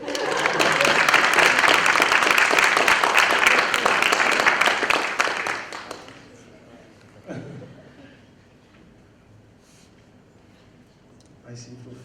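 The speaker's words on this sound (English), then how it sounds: "s van der Merwe, Thomas-Hausen, and Forsyth, today you indeed deserve our applause" Audience applause for professors at a university symposium, loud and dense for about six seconds, then tapering off into a quiet room with a few faint sounds.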